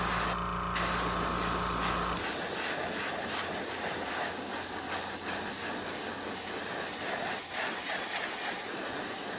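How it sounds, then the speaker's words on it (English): An airbrush blows a steady, loud hiss of air to dry paint on a custom fishing lure, continuous and close, after a brief tonal sound at the very start. "I'm gonna dry it off with my other airbrush"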